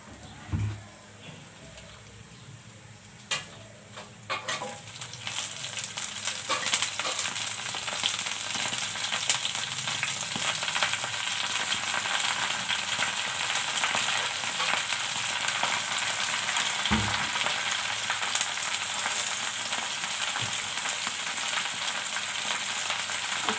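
Napa greens drop into a pan of reddened garlic and onion, and a quiet sizzle grows into a loud, steady frying hiss with a few clicks and knocks from the pan.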